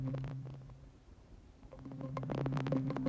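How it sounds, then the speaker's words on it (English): Cut-up accent and phased textures from a sampled accent kit for a dark textured sample blend into a dense, rumbling, droning bed with sustained low tones and scattered bright clicks that thicken toward the end. "I add some accents, some phase from my accent kit in my toolkit"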